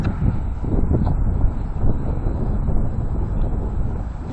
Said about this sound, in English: right there, a really strong wind hit it, and it made it lean all the heck way over there